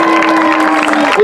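A brief, dense burst of audience clapping and cheering for a marching band section at an exhibition, steady and fairly close, with a sustained tonal hum running beneath.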